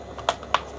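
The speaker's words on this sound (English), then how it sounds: "You align it properly, and then you just push it until you hear a click." Two sharp plastic clicks, about a quarter second apart, as a part snaps into a Bell Super DH Spherical MIPS mountain bike helmet; close, quiet and alone.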